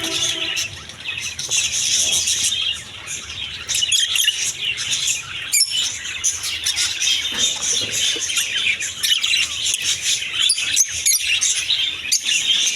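A crowd of caged budgerigars and Java sparrows in a pet bird shop twitters and chirps continuously, sharp high calls overlapping nearby, with a few louder squawks and no talking.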